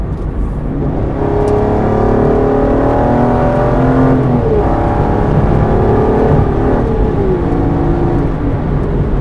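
Aston Martin engine pulling hard from about 50 mph as it merges onto a highway, a loud steady drone whose pitch climbs through the gears, with a brief dip at a shift midway and no talking.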